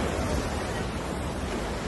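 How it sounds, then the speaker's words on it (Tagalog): Strong sea waves at Entalula Island, El Nido, Palawan roar as a steady, loud, broadband wash, with no distinct breaks or voices. "Ayan o, ang lakas ng alon."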